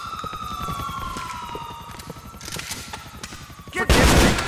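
Gunfire and police sirens in GTA 4 during a six-star wanted-level night club shootout, with steady popping shots over a gliding siren wail and a loud burst near the end.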